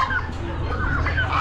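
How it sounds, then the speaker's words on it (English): Blue slate tom turkeys fighting at an Amish animal auction, with agitated clucking and squawking calls over a busy barn background of other poultry, heard close. "we got Tom and Thomas here fighting."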